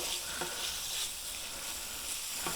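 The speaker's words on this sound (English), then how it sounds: "you can hear that starting to sizzle away" Paella base with chicken stock and garlic sizzling in a pan, a soft, steady crackle with occasional small pops and stirring scrapes, fairly faint.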